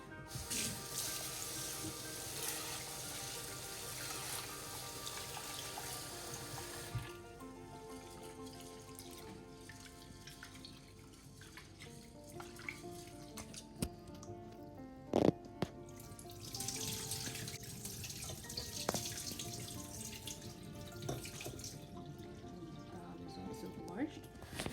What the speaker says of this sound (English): So we wash the rice, and then we have to wash the dal.